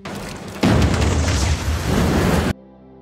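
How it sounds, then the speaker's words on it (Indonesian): An oil mine blows up in a film scene, giving a dense, roaring explosion that swells after a rumbling start, stays loud and sustained for about two seconds, then cuts off into a quiet tonal hum. "Harry dan Layla yang sengaja meledakkan tambang minyak"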